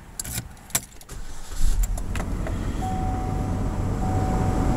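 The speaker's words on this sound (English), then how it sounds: "Come in the vehicle, start her up, take a look at the odometer." A 2012 Chevrolet Malibu LT engine cranks and catches after a few clicks and thumps, then settles into a steady, close idle hum with no talk.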